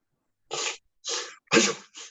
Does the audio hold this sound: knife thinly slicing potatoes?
no